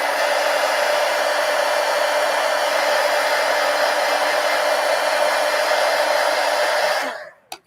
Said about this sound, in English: Well, I'll hit it with the heat gun so it dries fast.